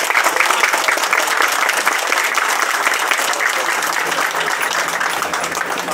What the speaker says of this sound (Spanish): les pido a todos los choferes que se den ustedes un fuerte aplauso